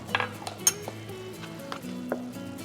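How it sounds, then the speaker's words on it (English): A measuring spoon stirs cornstarch into beef broth, light clinks and taps against a dish scattered irregularly and close, with soft background noise. "I'm going to mix some cornstarch with a little beef broth"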